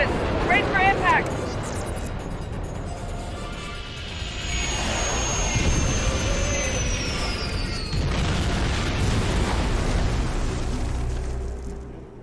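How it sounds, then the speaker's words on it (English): Starship crash landing in the game Star Trek Online: a sustained rumbling roar with booms, rushing wind and a falling whine, loud and continuous, with voices speaking briefly over it. "Get us on the ground, Commander. Crash position. Brace for impact."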